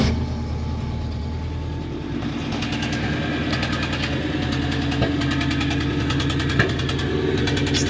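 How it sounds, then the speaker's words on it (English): A 1988 Mazda engine runs steadily and loud up close, its rhythmic idle pulsing with a slight misfire that adds faint irregular ticks and stumbles. "Still got a little misfire to it, but it runs."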